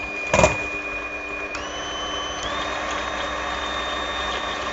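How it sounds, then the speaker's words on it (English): An electric whisk beats egg white to stiff peaks for blini canapes, giving a steady, high-pitched motor whine that shifts pitch partway through, with a brief clatter near the start and no talk. "We're going to whisk that up until you've got a white, stiff peaks in that"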